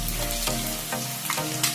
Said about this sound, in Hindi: गाइस देखिए एग जो है फ्राई हो रहे हैं अभी